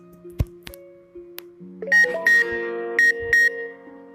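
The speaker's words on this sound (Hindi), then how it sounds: "तो वो वाली टून बजेगी जो मैंने प्लग इन के लिए सेलेक्ट की थी।" A custom charging tone plays on an Android phone as the charger is plugged back in: a few soft taps, then a bright melodic run of beeping notes in short bursts, clear and close with no voices.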